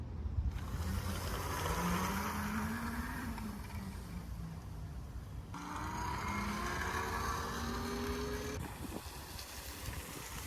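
TUTTIO electric dirt bike ridden at full throttle outdoors, a steady whining motor tone rising and falling in pitch over two runs, with continuous wind rush across the microphone.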